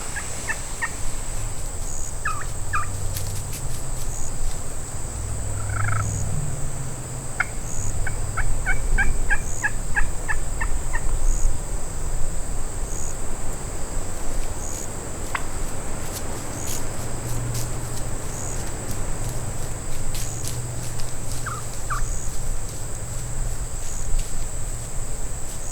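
Wild turkey in the Texas Hill Country during spring hunting season, with a gobbler and hen approaching through brush; several distant, brief bursts of calls among steady insect chirring and a high continuous whine.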